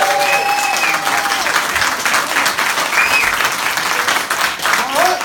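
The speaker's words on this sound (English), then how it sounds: "A round of applause for Al Murray!" A studio or podcast audience applauds Al Murray with sustained, loud, dense clapping that holds steady throughout, with a few cheers and voices mixed into the crowd.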